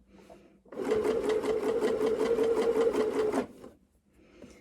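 Sewing machine stitching a dress seam at a steady, fast mechanical chatter for about three seconds. It starts and stops abruptly, sounds close and clear, and soft handling noises come before and after.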